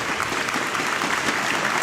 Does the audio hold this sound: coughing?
no